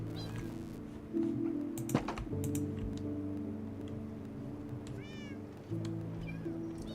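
Minecraft cats meowing in-game, several short meows over steady game music and ambient background sounds, no talking.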